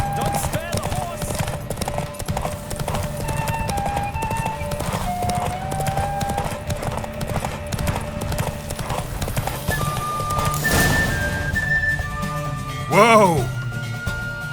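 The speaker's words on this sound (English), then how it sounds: "Don't spare the horse." A horse gallops hard in The Witcher 3 with fast, even hoof clatter over game music, then a neigh or whinny rises near the end as the pace eases.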